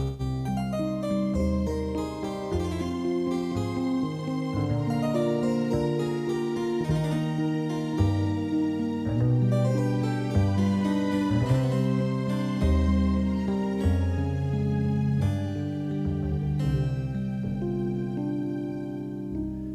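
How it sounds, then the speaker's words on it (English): A bass line from a Yamaha Clavinova CVP digital piano moves steadily beneath a full layered arrangement of sustained notes, playing continuously throughout. "How about a nice bass line here?"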